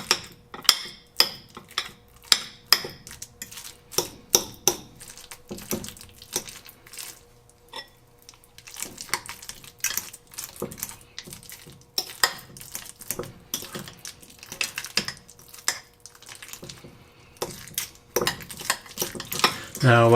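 Avocado being mashed by hand in a bowl for guacamole, irregular close clacks and scrapes of utensil against bowl with soft squelches, quiet between the sharper knocks.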